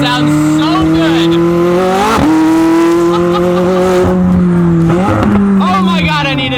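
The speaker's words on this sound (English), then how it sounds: "The exhaust on that thing sounds so damn good." Loud, close exhaust of a McLaren 600LT pulling hard, pitch climbing then dropping sharply at rapid gear shifts, repeated several times; voices are mixed in with the engine.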